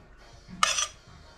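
Rice spooned into a bowl after cooking with onions, giving one brief clink of utensil against dish, quiet and close, with no talking.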